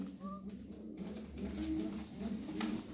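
Pigeons cooing softly in a loft, low repeated coos close by over a faint background.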